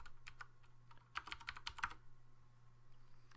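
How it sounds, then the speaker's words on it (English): Keys clatter on a computer keyboard in quick irregular bursts while someone enters text in a paint program, close and fairly quiet over a steady low hum, with no talking. "I'm gonna type in Pokeballers"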